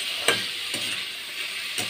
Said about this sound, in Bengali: মশলার সাথে এটা একটু কষাই নেব